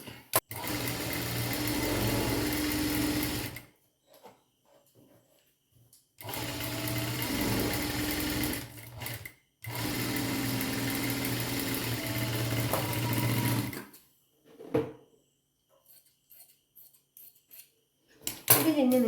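A sewing machine stitches a high-neck blouse in long steady runs of fast mechanical whirring, stopping and restarting several times, close and loud, with short quiet pauses and small handling clicks between runs.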